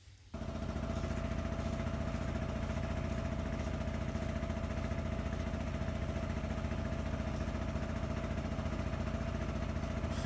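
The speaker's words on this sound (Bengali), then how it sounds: "আমাদের বোট এগিয়ে চলছে সাম্রাজঘাটের দিকে।" A boat's engine drones steadily on the way to Samrajghat in Bhola, Bangladesh, a loud continuous mid-low rumble with a faint steady whine running throughout, no voices.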